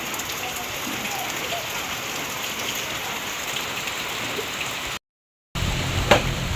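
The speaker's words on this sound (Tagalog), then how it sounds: "Ayan po, at nalakas na naman po ang ulan." Steady, heavy rain pours down in a dense continuous hiss, with a brief dropout near the end before the downpour resumes.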